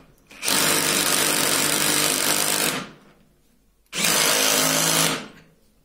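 A DeWalt DCD7771 brushless drill set to torque 15 in its low-speed, high-torque gear drives in two loud, close whirring runs, the first about two seconds long and the second shorter.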